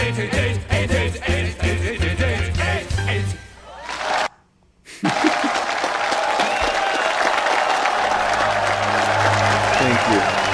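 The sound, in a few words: applause sound effect track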